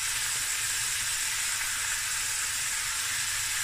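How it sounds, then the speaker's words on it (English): Two cloves of garlic frying in a pan for a Cape Malay tomato bredie, giving a continuous, close, even sizzle and hiss with no breaks. "Let this fry a bit."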